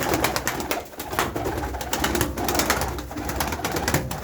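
Pigeons coo steadily in a coop, a continuous low murmur of several birds close by with no voices over them.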